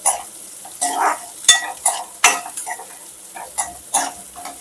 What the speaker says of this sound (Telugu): 2 ఉల్లిపాయలు వేసి మంచిగా ఈ ఉల్లిపాయలు గోల్డెన్ బ్రౌన్ కలర్ వచ్చే వరకు మంచిగా వేసుకున్నాం.